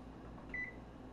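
A stove timer being set while eggs simmer for hard-boiling gives one short, clear electronic beep, lasting about a quarter second, over a low steady kitchen hum.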